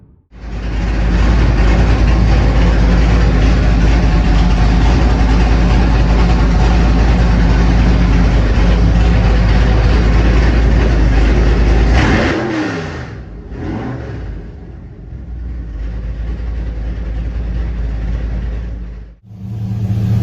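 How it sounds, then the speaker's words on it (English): A 1976 Corvette engine roars at sustained full throttle on a dyno for about twelve seconds, then drops off and idles before revving strongly again, loud and close. "The Corvette's motor's on the dyno right now, and gonna make a pull."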